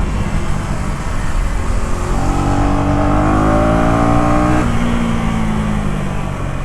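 A 2024 KTM Duke 250 motorcycle is ridden through a corner. The engine is loud and close, its pitch climbing steadily, then dropping at a gear change before rising again, all under constant wind roar.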